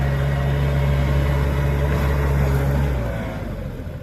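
A 2008 Yanmar C30R-2B mini excavator travels in high reverse, its engine running as a loud, steady drone with a strong low hum, close by and alone, easing slightly toward the end.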